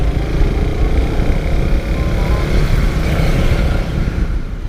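A Raider 150 Fi motorcycle fitted with a DC monorack idles along at low revs, around 1,000 to 2,000 RPM, producing a continuous close, loud engine rumble with slight uneven pulsing and no talk.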